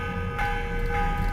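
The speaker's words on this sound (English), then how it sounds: "The morning bell." A morning bell rings in Assassin's Creed Revelations, sustained metallic tones with layered overtones over a low game ambience, struck again partway through so the ringing swells and lingers.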